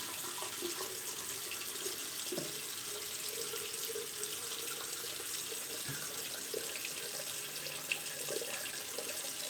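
Tap water runs steadily into a sink for rinsing after a shave, a constant close hiss and splash with small gurgles and drips, and no voices.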